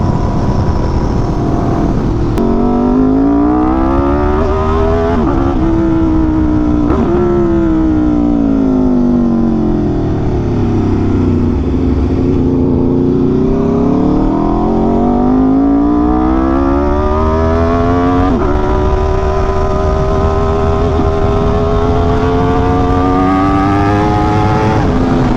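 An Aprilia RSV4 Factory sport bike's engine roars loudly throughout a ride, its pitch rising through the gears, dipping and climbing again in long sweeps as the rider accelerates, with steady wind rush and no talk.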